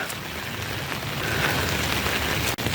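Rain falling steadily outdoors during a walk, a dense, even hiss of drops close by with no talk, briefly cut off near the end.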